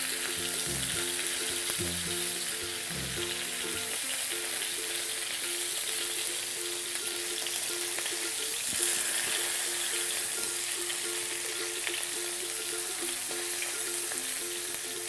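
Meat searing and sizzling steadily in a hot pan, a continuous frying hiss throughout, with soft knocks and shifting as the piece is turned onto its side; voices murmur faintly in the background.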